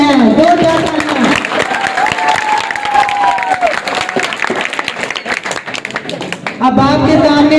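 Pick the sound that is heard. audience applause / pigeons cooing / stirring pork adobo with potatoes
audience applause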